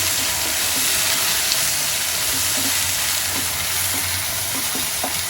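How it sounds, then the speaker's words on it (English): Tomatoes and fried chili sauté in a pan for a tomato pickle, making a loud, even sizzle with light scraping and stirring. "once the chili is fried, add tomatoes in that. Now you saute this mixture for 2 minutes."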